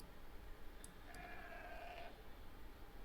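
Sheep in an Age of Empires II match give two short, faint bleats over a steady low background hum, with no talk.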